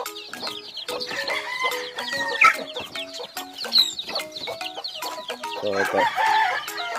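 Young roosters cluck and call repeatedly in a busy, close-up chorus, with someone speaking briefly over them.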